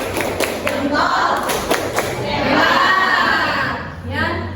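Classroom of pupils doing a rhythmic clap chant, a quick burst of claps and thumps with children's voices and crowd noise mixed in, close and fairly loud.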